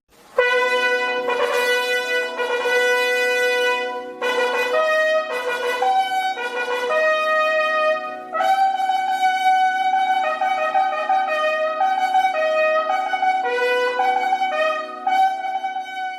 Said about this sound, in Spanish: escuchemos la reconstrucción del sonido de una tuba romana